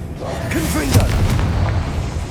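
Confringo blasting curse explosion in the Hogwarts Legacy video game, a booming burst near the middle of the clip over a steady rumbling game background, with voice-like tones mixed in.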